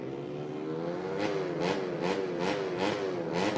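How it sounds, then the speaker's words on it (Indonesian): Small go-kart engines buzz and rev nearby at the Sentul Karting circuit, a layered high-pitched whine rising and falling as karts pass in quick succession. "terdengar suara knalpot yang begitu gemuruh"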